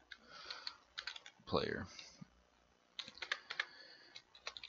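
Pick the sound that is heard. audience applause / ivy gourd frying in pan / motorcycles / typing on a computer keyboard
typing on a computer keyboard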